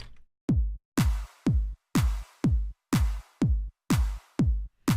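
A punchy snare drum hits repeatedly in a steady loop, each crack followed by a short, roomy reverb tail, close and clear with no talking.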